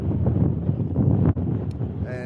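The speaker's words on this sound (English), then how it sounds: "yeah, it's starting to get windy." Gusty wind rushes across an open outdoor spot as storm clouds gather. It makes a steady, loud roar on the microphone with one brief dip and a faint chirp near the end.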